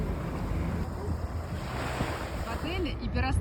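Sea surf rolling onto a Cuban beach, a steady broad wash of waves with gusty wind buffeting the microphone, continuous and close, with a faint voice briefly audible beneath.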